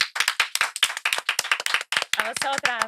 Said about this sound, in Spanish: Un aplauso gigante para Pastora Soler.